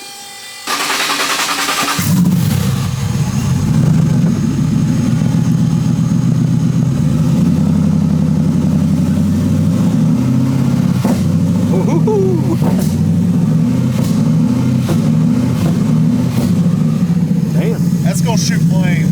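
A twin-turbo 6.2 Raptor-swapped Crown Vic engine, loud and close, starting abruptly then holding a high, steady rev with slight shifts in pitch, while people talk over it.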